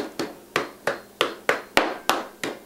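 Chicken being pounded flat with a mallet or meat tenderizer, eight sharp, evenly spaced thuds landing about every third of a second, close and loud with no talking.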